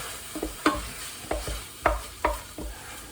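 A spoon stirs Henderson's sauce through a brisket mixture in a hot pan, several close scraping strokes in an uneven rhythm over a soft sizzle.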